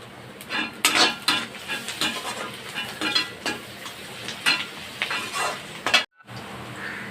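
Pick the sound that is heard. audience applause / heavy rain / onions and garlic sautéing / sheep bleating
onions and garlic sautéing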